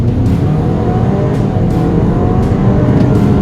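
An Audi Q5 in comfort mode accelerating hard, a steady, loud engine and road roar building continuously with faint rising tones, heard from close by with no talk.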